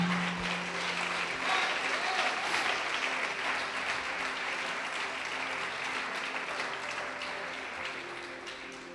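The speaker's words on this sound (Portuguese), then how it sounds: "Pode aplaudir Jesus e glorificar." Sustained applause from a church congregation, steady and dense throughout, with a faint tonal hum underneath early on.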